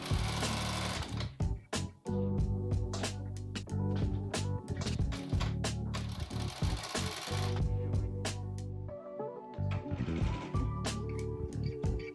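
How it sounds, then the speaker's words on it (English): A sewing machine stitching hair wefts into a wig cap runs in rapid mechanical bursts with short pauses between runs, close and clear. "using a sewing machine makes it so much easier and quicker"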